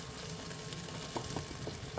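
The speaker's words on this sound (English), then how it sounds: "I'm just going to give these a quick stir" Potatoes frying in a pan give a quiet, steady sizzle, with a few soft scraping knocks as they are stirred.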